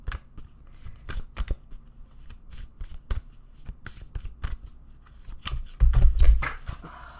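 Tarot-style playing cards handled and dropped during a card reading: a series of crisp, irregular flicks and slaps, ending in a louder burst of cards falling and rustling together.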